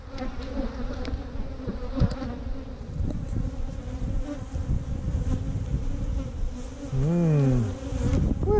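Worker honeybees buzz continuously up close at a beehive, a dense droning hum with individual bees swelling louder as they pass near.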